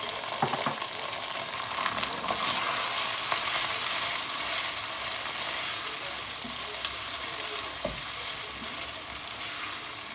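Diced onion, tomatoes and green chilies frying in a pan for a restaurant-style aloo gobi, a steady crackling sizzle with faint stirring scrapes, close and continuous without talk.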